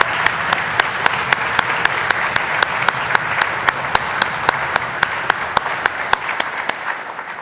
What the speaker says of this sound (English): a big, huge round of applause to Mark